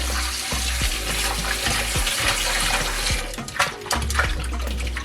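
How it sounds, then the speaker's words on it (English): Water poured into a pot while cooking Jamaican-style curry chicken feet, a loud continuous splashing gush with a few clinks. "And then I go in with my water."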